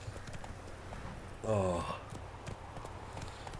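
Roach, the horse in The Witcher 3 game, clip-clops at a gallop in a quiet steady rhythm, broken by a loud whinny midway, while someone speaks and exclaims over the hoofbeats.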